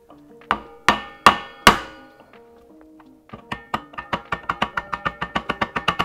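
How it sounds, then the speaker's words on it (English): Plastic rubber hammer, harder side, tapping an Aermacchi motorcycle front hub: four loud, spaced knocks, then a quicker run of about a dozen lighter, evenly paced taps close up. "I've got a plastic rubber hammer."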